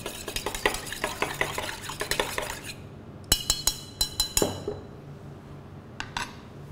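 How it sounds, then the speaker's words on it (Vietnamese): A spoon stirs a grapefruit syrup tea drink in a glass, producing a quick run of rhythmic clinks, a brief pause, then a few sharper, ringing taps against the glass. "Khuấy đều."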